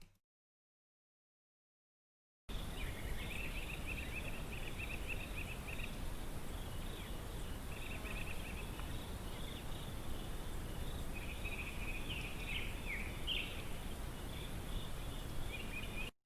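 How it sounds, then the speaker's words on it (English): Birds chirp in scattered bursts over a steady bed of outdoor noise and insect-like buzzing, after a moment of silence at the start. "So my goal for this sound is to just have the birds."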